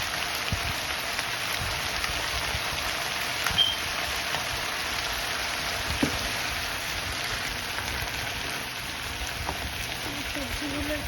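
Chicken stock powder and black pepper fry in a pan with a steady, rain-like sizzle and occasional faint clinks, with a voice speaking quietly over it.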